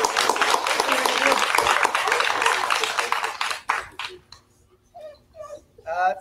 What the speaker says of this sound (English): Round of applause for Andrew, huh?